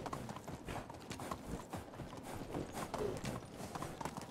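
Horse hooves clip-clop steadily while riding in the video game Medieval Dynasty, a continuous even trot of moderate loudness heard against soft ambient background.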